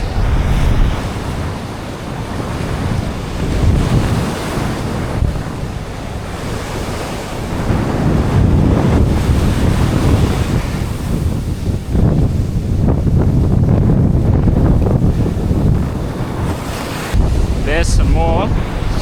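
Ocean waves washing onto an Australian shore at sunset, a loud continuous surge and hiss with heavy wind buffeting the microphone, rising and falling as the water rolls in and retreats.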